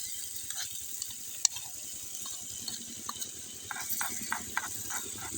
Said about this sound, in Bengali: লঙ্কাটা এবার এই তেলের মধ্যে দিয়ে দেব।